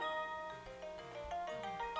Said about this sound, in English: That is my ringtone.